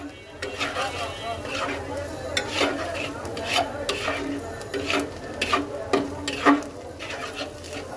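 Water goes into a frying masala of turmeric, coriander and cumin powders for a duck egg curry, setting off a steady sizzle with repeated sharp scraping stir clicks from a utensil against the pan, close and lively.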